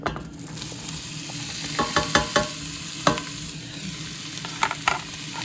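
Onions sizzling in hot oil in a pan, a steady close frying hiss broken by scattered clicks and pops as they are stirred, with no voices.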